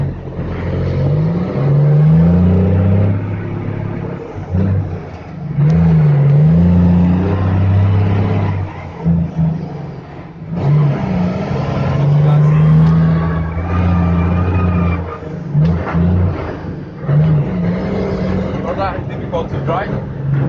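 A truck with a 10-speed manual transmission moving in third gear, its engine droning loud and close, rising and falling with throttle, while someone talks over it at intervals.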